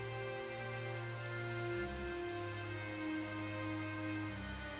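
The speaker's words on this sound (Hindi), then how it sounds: "बारिश शुरू हो गई।" Heavy rain pours steadily in an audio story, a dense even hiss of falling water with a low droning tone beneath, no voices.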